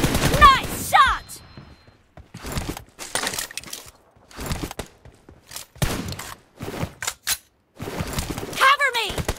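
Rapid bursts of gunfire crack through a 2-vs-2 team deathmatch in PUBG Mobile, with clusters of shots separated by brief gaps and players talking in between.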